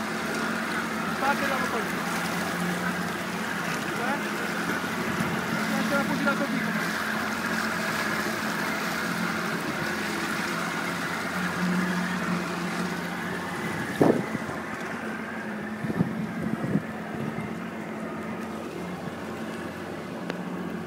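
A motorboat engine drones steadily over water, easing off the throttle, with wind buffeting the microphone and a few knocks near the end.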